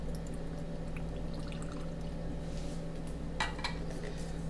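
Pineapple juice is poured for a cocktail, giving a short liquid splash and trickle against a steady low hum, with light clinks of glassware nearby.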